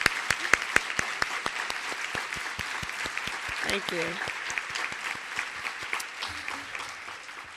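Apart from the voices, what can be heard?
audience applause at a conference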